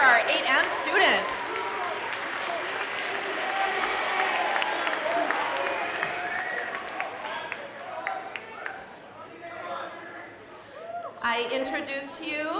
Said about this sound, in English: applause for our 8M students.